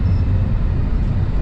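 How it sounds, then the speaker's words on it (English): Two hypercars blowing past on a road, heard from inside an open Pagani Huayra Roadster as a loud, low, continuous roar that fills the brief moment with no voices. "That lady just had 2 hypercars blow by her"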